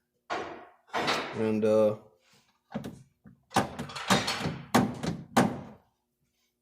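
Heavy thunks and bangs come from unloading the back of a GMC 3500 Savana van, a series of irregular knocks and scrapes at close range, with someone speaking over some of them.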